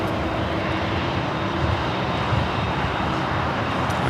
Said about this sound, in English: There in the background, Virgin Atlantic Flight 8 taking off.